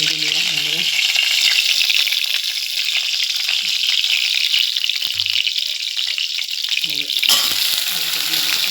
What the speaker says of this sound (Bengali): সোয়াবিনটা ভেজে নিলাম বন্ধুরা।